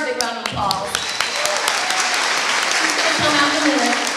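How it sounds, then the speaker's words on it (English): An audience at an elementary all-county chorus concert bursts into a round of applause, with dense steady clapping throughout and a voice speaking briefly at the start and again near the end. "I want to give her a big round of applause"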